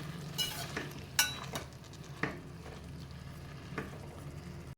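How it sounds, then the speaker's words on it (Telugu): Tomato chutney with turmeric stirred in a pan with a utensil, a few soft scraping clinks over a low steady simmer, close and quiet, with no talk. "మధ్య మధ్యలో కలుపుకుంటూ ఉండాలి"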